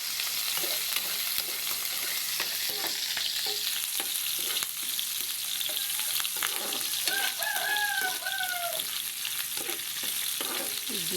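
Garlic, onion and ginger sauté in a pan for chicken adobo, a constant close sizzle and frying hiss with occasional stirring scrapes, while a rooster crows faintly in the background.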